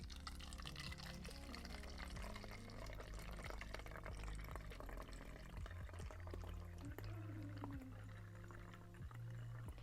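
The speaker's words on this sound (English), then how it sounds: "Got my bottle, got my funnel, and we'll go ahead and pour that in." Homemade hair spray liquid pours steadily through a funnel into a bottle for several seconds, a continuous gurgling flow with small drips, fairly quiet against a low background hum.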